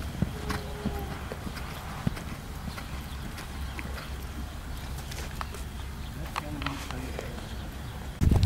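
A horse at a sport-horse sale in Germany walks with steady clip-clopping hooves, moderately close, while people talk over it in the background.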